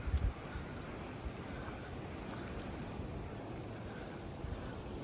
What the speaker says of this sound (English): Hear the sound of the water.